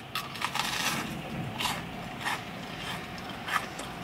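Crispy Fatburger food, now cold, crunches between the teeth during a close-up mukbang, with a steady run of chewing crackles and several louder crisp bites spread across the few seconds.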